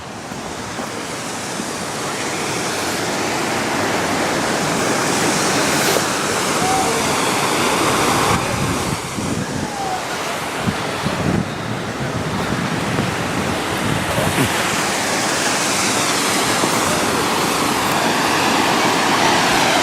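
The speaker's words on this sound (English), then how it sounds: "Nice waterfall, that, isn't it?" Outdoor waterfall at a swimming spot, a constant loud rush of falling water filling the whole stretch, roughened by occasional wind buffeting on the microphone.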